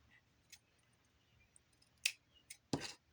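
Scissors snipping through paper page edges in a quiet room, a few short crisp cuts spaced apart, the loudest pair near the end, with faint background hum and no talking.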